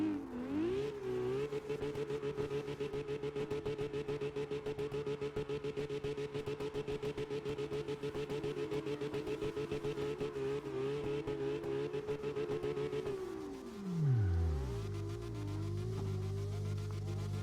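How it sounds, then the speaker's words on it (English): Car engine in the CarX drifting game holds a loud, steady high rev through a long slide, then drops sharply in pitch near the end and settles to a lower idle-like drone. "Now that we rev the engine to its fullest and we did a slide"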